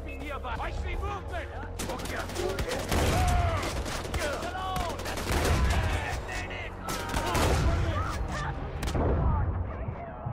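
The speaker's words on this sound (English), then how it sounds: "shotgun time" Shotgun fire in the video game Far Cry 4: several loud, sharp blasts land irregularly over continuous game sounds and background noise.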